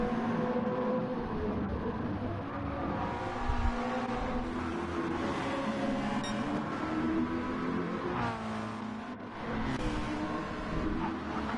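McLaren and Supra race cars in a racing video game, a continuous engine drone with shifting revs and a few passing swells, steady and fairly loud with no voices.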